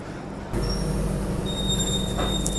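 Chennai Express (22159, Mumbai CSMT to MGR Chennai Central) pulling out of Wadi Junction: a steady low rumble of rolling carriages rises abruptly and holds, with faint high whistling tones above, no talk.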